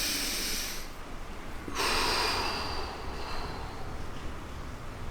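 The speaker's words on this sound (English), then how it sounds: "Deep breath in." One deep breath drawn in during a stretching session, a near, breathy inhalation with airy noise, alone and without talk.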